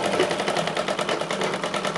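Sewing machine stitching a seam on a katori blouse, a steady rapid mechanical whir with a fast even pulse running loud and close for the whole stretch.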